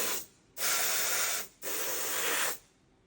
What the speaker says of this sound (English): So let me spray all this off.